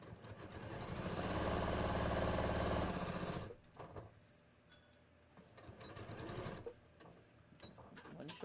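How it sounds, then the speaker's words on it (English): A sewing machine stitches the shoulder seams of a bodice in a loud close burst of about three seconds, followed by quieter intermittent stitching and handling noises. "I'm going to sew these."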